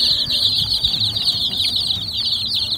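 Chicks and a hen in a netted coop cheep and cluck loudly and continuously, the high peeping dense and close with soft clucks beneath.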